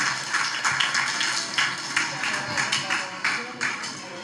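An audience at a school Children's Day prize distribution claps in a steady, rhythmic beat of sharp, fairly close claps that keeps going throughout, with an amplified voice talking over it.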